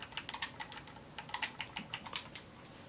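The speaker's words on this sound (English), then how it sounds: "Typing so fast." Rapid typing on a computer keyboard, a quick irregular patter of light clicks in short bursts, fairly close and fairly quiet, with no voices.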